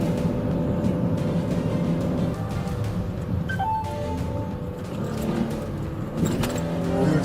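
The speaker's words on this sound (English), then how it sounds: "the young driver accelerated and fled through city streets" During a police chase a car accelerates hard, its engine a steady close drone that rises and holds, with traffic noise around and no voices.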